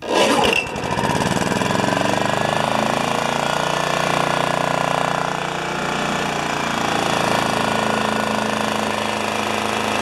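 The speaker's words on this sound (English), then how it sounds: "A working lawnmower. Let's start her up one more time just for fun." A Honda HRA214 lawnmower engine starting and then running steadily on its stand with the blade not turning, a loud continuous rattling drone close by.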